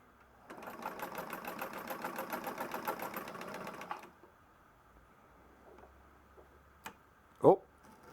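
A restored Singer 99 sewing machine runs a short test seam, a steady rapid stitching rattle for about three seconds before stopping; afterward come faint handling noises and a sharp click.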